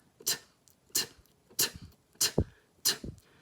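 A voice imitates a closed hi-hat with five crisp, evenly spaced ticks, close and fairly quiet.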